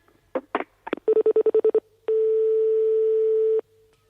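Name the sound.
telephone number being dialed, DTMF tones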